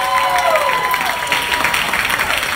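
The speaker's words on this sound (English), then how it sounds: "big round of applause for Seth and Jimmy" Audience applauds and cheers after a dance performance, a dense wash of clapping with crowd noise and a faint voice over it, loud and continuous.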